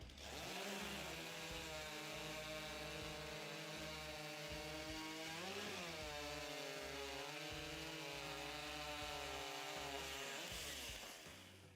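A STIHL chainsaw rips through timber in a Timbersports race at the Australian Pro Championship, a loud, continuous high-revving whine whose pitch sags and recovers midway as the blade bites, holding strong to the end.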